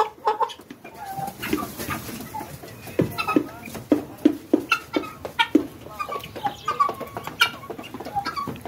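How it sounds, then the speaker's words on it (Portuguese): Hens clucking in short, irregular bursts, several birds close by with overlapping calls and a few sharper squawks. "Galinha pintada."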